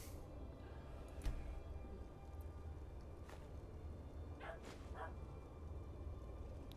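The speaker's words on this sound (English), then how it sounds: "I hear a Sheltie scratching at the door and barking." A Sheltie barks faintly from a distance behind a door in Skyrim, giving a few scattered yips over a low, steady background hum.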